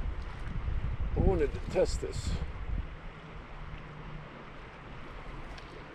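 Chilly January wind blows outdoors at a fishing spot, a rough rumbling gust buffeting the microphone under a man's brief speech, then easing to a softer steady rush.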